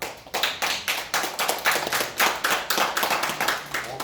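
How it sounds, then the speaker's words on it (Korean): A group claps in a strong, even rhythm, roughly four claps per second, loud and close with no talking. "박수는 야무르게 치는 거라"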